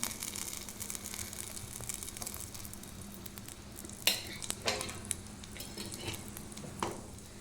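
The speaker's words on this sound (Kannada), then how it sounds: "ಆ ಡ್ರೈ ಫ್ರೂಟ್ಸನ್ನು ಅದರಲ್ಲಿ ಹಾಕಿ ಹುರಿದುಕೊಳ್ಳಿ" Dry fruits sizzle gently in ghee in a pan for payasam, a soft continuous fry with occasional scraping and clinks of a spoon stirring against the pan.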